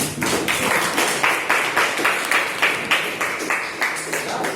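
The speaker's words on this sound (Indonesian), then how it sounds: "Tepuk tangan untuk teman-teman." Students in a classroom clap for their top-ranked classmates, a rhythmic, unison clapping in regular bursts, fairly close and moderately loud, with a voice faintly underneath.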